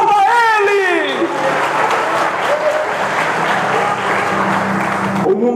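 Church congregation at a spiritual prayer conference applauding loudly and steadily, a dense wash of clapping that fills the whole stretch, with a voice rising over it at the start.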